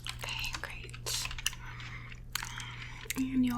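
Close, wet chewing of gum in a receptionist roleplay, soft smacks and clicks mixed with whispering and light keyboard taps over a low steady hum.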